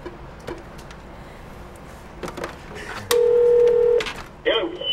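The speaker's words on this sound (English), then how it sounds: "I don't think Wanderlei Silva would just pick up the phone" A phone line during a prank call gives a steady electronic tone lasting about a second, followed by a brief warbling tone, with a few faint clicks and taps before it and room noise throughout.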